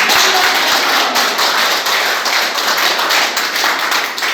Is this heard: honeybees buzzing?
no